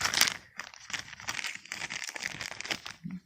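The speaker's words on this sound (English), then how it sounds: "The next is a Ziploc bag or a plastic bag." A Hefty plastic bag is handled and crinkles in close, irregular bursts of rustling for a few seconds, fairly quiet with no talking.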